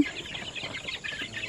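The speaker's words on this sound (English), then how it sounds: "So we now release the chicken" Chickens clucking right after being let out of an enclosure on a farm in the Philippines, a steady run of close, moderately loud clucks with no talking.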